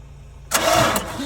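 A Mazda MX-5 engine cranks over on the starter, a sudden loud burst of churning after a quiet half-second, running close and continuous for under a second.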